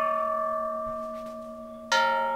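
A Japanese bronze Buddhist temple bell rings with a sustained tonal hum that slowly decays, then a fresh strike lands near the end and the ringing swells again, with no voices.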